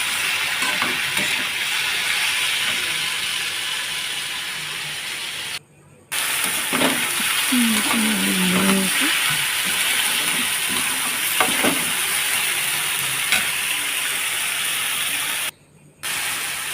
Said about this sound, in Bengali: হলুদ গুঁড়ো দেওয়ার পরে একটু নাড়িয়ে নিলাম।